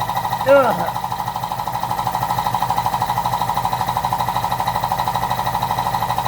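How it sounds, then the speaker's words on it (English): A running air compressor keeps filling up with a fast, rhythmic pumping chug that stays steady and close throughout, and a brief voice or squeak cuts in near the start. "I'm going to let this compressor fill up a few more minutes"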